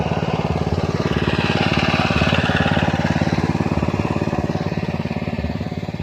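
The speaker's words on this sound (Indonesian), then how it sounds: "Di sini ada mesin. Ini lagi melakukan penyiraman" An engine-driven pump waters a watermelon field, chugging in a fast, steady rhythm close by, loud and unbroken throughout.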